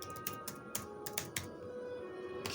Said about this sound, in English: that's because I'm typing